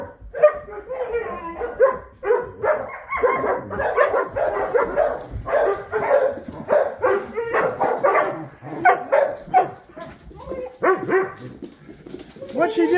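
A pack of about eight pet dogs barking and yipping in quick, repeated bursts as they are let outside, fairly close, with birds or pigeons cooing and someone talking over them.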